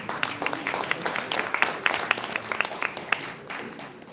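An audience at an executive business dinner claps in a round of applause, a dense patter of many hands rising and thinning over a few seconds.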